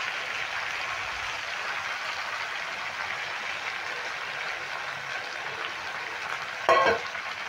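Whisked yogurt going into a frying cauliflower roast, with a steady, close sizzle throughout and a short, louder splashing hiss just before the end.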